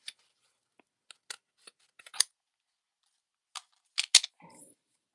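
Scissors snip through sticker backing paper in a quiet crafting setting: a scattering of short, crisp cuts, then a quick cluster of louder snips near the end, close and alone.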